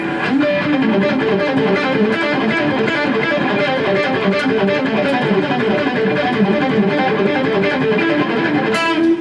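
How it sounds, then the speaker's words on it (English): A tight, chugging electric guitar pentatonic lick with distorted, palm-muted picking running steadily throughout, loud and close. "the first lick, like I said, is just a pretty simple pentatonic run"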